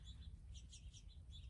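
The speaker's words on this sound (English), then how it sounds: "You hear the birds, don't you?" Birds chirping outdoors, a string of faint, high, repeated tweets spread evenly across the moment over steady low background rumble, with no talking.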